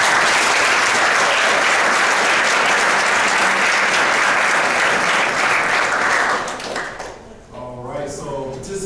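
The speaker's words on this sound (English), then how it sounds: "Give one more round of applause." Sustained applause from a large audience of cadets at a military leadership laboratory, dense clapping holding steady for about seven seconds before tapering off, followed by a voice beginning to speak.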